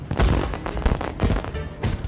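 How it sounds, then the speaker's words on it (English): Fireworks burst in a festive scene in the video game Trails Through Daybreak 2, a rapid run of loud, close booming pops overlapping one another over about two seconds. "Surprise fireworks!"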